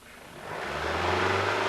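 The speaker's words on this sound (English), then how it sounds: "Race the engine repeatedly and operate the engine for 15 minutes or longer." A Toyota Celica engine rises from idle into a rev, the low drone climbing and swelling in loudness over under two seconds, heard close with no talk.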